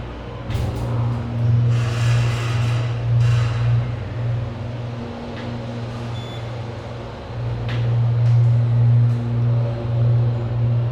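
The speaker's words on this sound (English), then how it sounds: "Let's listen to the motor." A modernized MEI/Schindler hydraulic elevator motor at an IKEA store in Tempe, Arizona, running with a steady low hum that briefly dips and then resumes, heard alone at close range.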